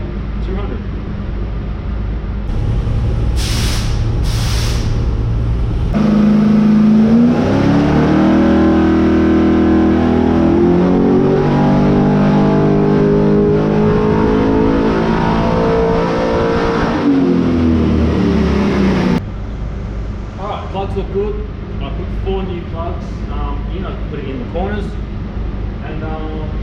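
An XG Ute engine running with nitrous on a dyno, a loud sustained drone that climbs in pitch through a long pull, then drops back to a rougher idle with voices talking over it.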